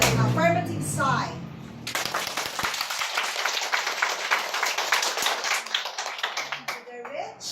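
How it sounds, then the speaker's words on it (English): After a brief spoken prompt, a debate audience breaks into sustained applause to vote for the affirmative side, a dense burst of many hands clapping that holds for several seconds before tapering off. "Your claps to the affirmative side."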